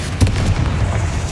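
A Confringo spell explosion in Hogwarts Legacy bursts with a loud, close boom, followed by a rumbling crackle that fades quickly.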